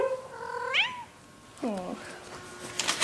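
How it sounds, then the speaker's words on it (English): A kitten gives two rising, plaintive meows about a second apart, close and fairly clear, with faint background noise and no talking. "Kitten! Say hello, Willow."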